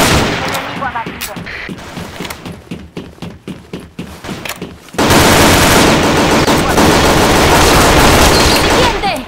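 Rapid gunfire bursts from the shooter video game Operation 7, with scattered shots and game effects at first, then a dense, loud, continuous barrage of automatic fire for the second half.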